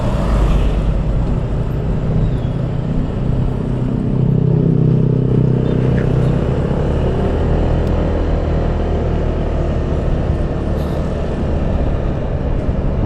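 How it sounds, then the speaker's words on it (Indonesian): Steady, dense road traffic on a congested street in Sorong, with a continuous low rumble of engines throughout and no talking. "Macet panjang guys."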